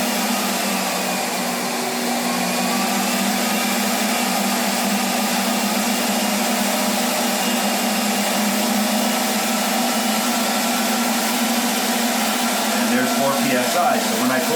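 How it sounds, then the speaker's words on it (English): An ApolloSpray PRECISION-5 PRO paint sprayer turbine runs continuously with a loud, steady whine and whoosh, close by and unbroken for the whole stretch. "the machine will ramp up and continue to give me 4 psi"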